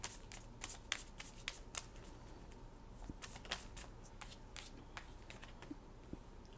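Tarot cards being handled, shuffled and laid out on a table during a reading, with soft, close rustling and snapping of card stock in quick irregular flicks.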